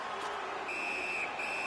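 A referee's whistle in the ice hockey video game NHL 19 gives a high, steady blast and then a second one, riding over a loud, constant arena crowd roar.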